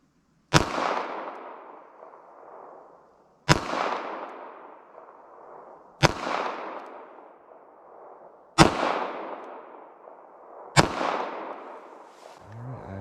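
.380 ACP pistol shots crack one at a time at an outdoor shooting range, five sharp, loud reports spaced a few seconds apart, each followed by a fading echo.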